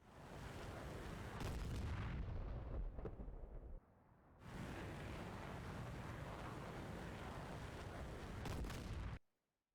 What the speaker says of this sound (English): Another missile coming in.